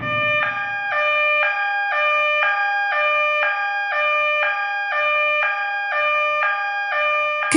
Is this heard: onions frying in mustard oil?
no